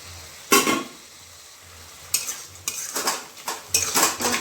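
Fish heads drop into hot oil in a pan and get stirred, producing sharp clattering utensil scrapes and knocks in bursts over a soft sizzle, close and fairly loud.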